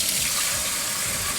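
Water runs steadily from a kitchen tap as hands are washed during pot roast cooking, a dense, bright rushing hiss that stays constant and close for the whole short stretch, with no talking.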